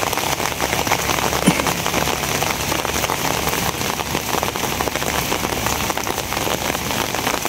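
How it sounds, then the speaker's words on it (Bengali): Rain falls steadily in a village, a dense even patter of drops on surfaces, close and moderately loud, continuing without pause. "বৃষ্টির মধ্যে"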